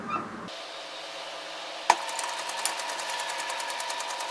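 A sewing machine stitches a 3/8-inch seam with a sharp click as it starts, then settles into a steady, rapid ticking run close by, with no voices over it.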